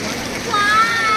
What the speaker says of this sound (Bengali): আর সাথে জলের স্রোত